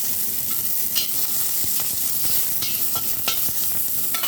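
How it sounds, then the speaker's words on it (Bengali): Eggplant pieces fry in a pan for a Bengali labra vegetable dish, giving a constant dense sizzle with intermittent clicks and scrapes of stirring, close and loud, no talk. "এবার বেগুনগুলো ভেজে নিচ্ছি, একে একে সব সবজিগুলো আমি ভেজে নেব"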